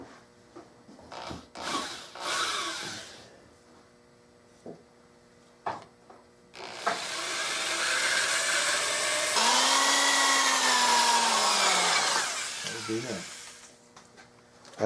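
Electric drill boring into metal during restoration of an H&R 28 gauge shotgun, a steady loud whirring that holds for several seconds with a rising and falling pitch, preceded by shorter bursts and clicks.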